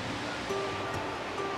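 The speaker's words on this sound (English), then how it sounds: "enjoying the river" A flowing river on a Peak District hike rushes in a steady, broad wash of water, continuous and fairly close, with no talking.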